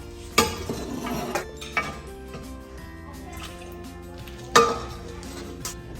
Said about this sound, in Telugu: వీటిని మనం తీసుకుని చల్లీల్లో వేసుకుందాం